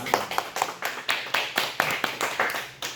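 A church congregation claps in thanks to a visiting missionary at a Sunday service, giving a short run of distinct, fairly loud claps in an even rhythm, close by and without talk.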